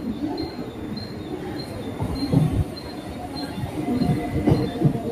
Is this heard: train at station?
yes